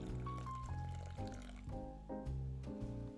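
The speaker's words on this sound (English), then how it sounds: "We're gonna start off with around 200 grams of lukewarm water." Lukewarm water poured into a bowl for sourdough bread, a close continuous trickling and splashing stream with rising gurgling pitch as the bowl fills, heard without talk over it.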